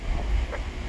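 Steady low wind buffeting the microphone while riding an Easyride 175 ADV motorcycle on an open road, a continuous rushing roar with no talk.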